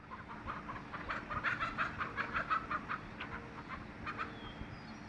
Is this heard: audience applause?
no